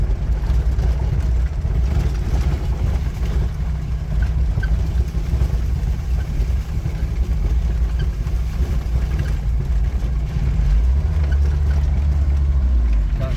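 A four-wheel-drive vehicle cruising slowly along a national forest road, its engine a steady close low rumble with constant rolling noise throughout, without change or pause.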